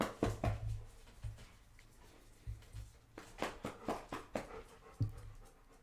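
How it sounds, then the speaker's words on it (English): A dog pants in quick, close bursts with a few soft whimpers mixed in, the breathy huffs coming in uneven clusters against a quiet indoor background. "Hey, puppies."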